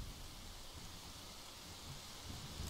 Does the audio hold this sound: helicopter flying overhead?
no